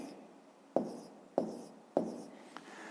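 A pen scratches across paper in three distinct strokes, each starting with a crisp attack and trailing off, close and quiet with no talk.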